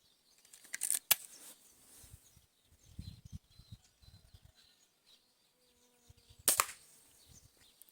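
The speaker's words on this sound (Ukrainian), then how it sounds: "Так, останній сьомий постріл." Two sharp pops from an IZh-53M air pistol, several seconds apart, with quiet rustling and faint handling noise between them.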